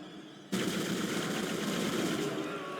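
Sustained rapid automatic gunfire from the video game Dead Space bursts in abruptly after a short quiet start and keeps up as a loud continuous rattle for over two seconds.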